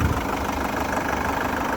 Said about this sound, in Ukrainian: Мотор працює як часи